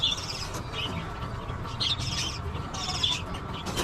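A pet bird in a nest box gives several high, short chirping calls in bursts, close by, over a steady low background hum.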